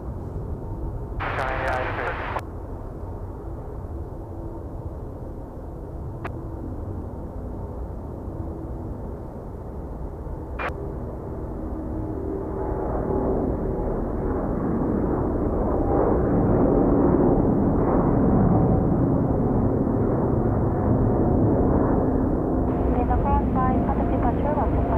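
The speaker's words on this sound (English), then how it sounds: "Vietnam now rolling, runway 34 right," A Vietnam Airlines Airbus A350 begins its take-off roll on runway 34 right, a distant jet roar that swells steadily from a low rumble into a broad, loud engine noise under ongoing talk.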